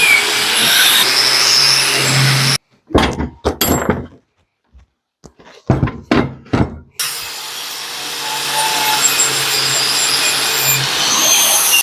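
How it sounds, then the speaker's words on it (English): A wire wheel scrubs slag off the welds of a wheelbarrow go-kart frame: a loud, steady, harsh whir that pauses midway for a few clunks and knocks, then resumes. "clean them all up with the wire wheel, get all the slag off it"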